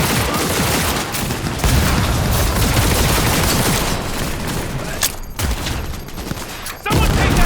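Sustained, dense gunfire from the video game Cyberpunk 2077 rattles loudly and almost continuously through a firefight, with a brief gap before the shooting resumes; there is no talk.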